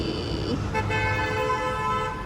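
A Mahindra Thar sounds its car horn as it arrives, a steady, fairly loud tonal honk held for over a second over low outdoor road rumble.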